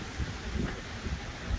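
Wind gusting steadily over open water near a no-name bridge at Big Pine Key, with waves chopping; a constant broad rush with low rumbling buffets, no voices.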